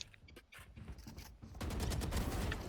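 Rapid gunfire bursts in a first-person shooter video game, a dense fusillade of shots that swells louder and more continuous in the second half, with no talking.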